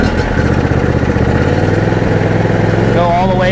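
A John Deere E180 lawn tractor with a 25 hp engine runs loud and close in a steady rumble, with a voice speaking over it near the end.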